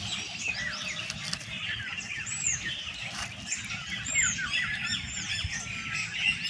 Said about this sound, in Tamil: இப்போ நீங்கள் கேட்டுட்ருக்க இந்த பறவைகளோட சத்தம் பயங்கரமாக காதை கிழிக்குது இல்லையா?